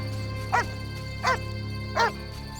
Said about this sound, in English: The rabid dog.